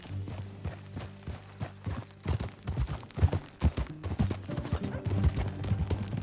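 Horse hooves clip-clop in a steady, uneven rhythm in Red Dead Redemption 2, mixed with tonal game music and occasional mechanical clicks, fairly close and moderately loud.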